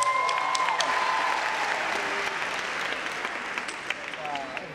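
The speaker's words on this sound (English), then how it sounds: "give yourselves a round of applause" Audience at a business fair applauds with a thick, continuous wash of clapping that tapers slightly toward the end, with faint voices mixed in.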